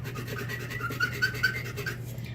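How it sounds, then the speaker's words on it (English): A brass lock part being hand-sanded in short back-and-forth strokes, a soft, close rasping with a few sharper scratchy peaks, alone with a faint steady hum underneath. "we still have to sand that, so let me do that real quick"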